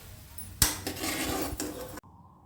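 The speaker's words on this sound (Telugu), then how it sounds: "సో దీన్ని ఒక సర్వింగ్ ప్లేట్లోకి మనం తీసుకుందామండి" Fried semiya (vermicelli), browned, is moved from the pan onto a serving plate with a sudden clatter of metal utensil against cookware lasting about a second and a half. Then the sound cuts to near quiet.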